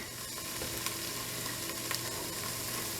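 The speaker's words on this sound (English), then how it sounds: "I always try to cook my tomato paste. I try to give it a good dry cooking." Tomato paste dry-cooks in an Instant Pot for a vegetarian minestrone, making a steady, close sizzle with faint scraping of stirring and no voices.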